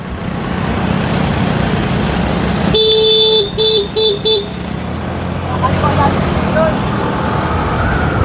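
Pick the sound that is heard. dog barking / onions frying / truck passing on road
truck passing on road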